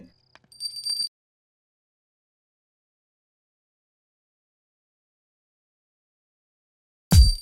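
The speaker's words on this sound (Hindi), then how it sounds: "फिर घंटी की आवाज क्यों नहीं आ रही? श्यामला, क्या घंटी फिर से बजाऊं?" A hand bell rung during a Hindu puja gives a brief, bright metallic ring at the very start. Near-total silence follows, then a dull low thump closes the stretch.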